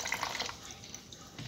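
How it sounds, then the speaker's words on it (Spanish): A gas stove burner, clogged with rust, being dunked and moved around in water for rinsing, giving close, brief sloshing and dripping splashes with no talk. "Y para enjuagarlo, ya lo meto al agua. Una vez que se llenó, lo muevo."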